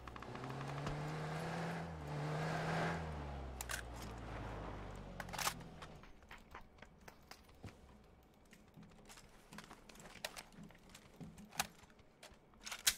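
A video-game car engine drones past, its pitch sliding downward over several seconds before fading, leaving scattered sharp keyboard clicks and taps.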